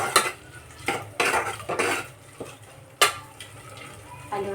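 Repeated scraping and clanking of a spoon stirring masala frying in oil in a pan over a soft background sizzle, in irregular bursts.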